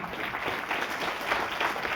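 Applause at a motivational talk at a DXN gathering, a steady, moderately faint wash of many hands clapping for about two seconds.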